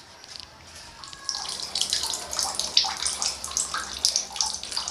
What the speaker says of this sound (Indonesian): ini kerannya mengalir terus airnya